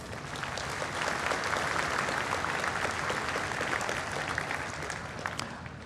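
Steady applause from a conference audience at GTC 2014 greeting the new CUDA Fellows, a dense even patter of many hands held at a constant level for several seconds with no voices over it.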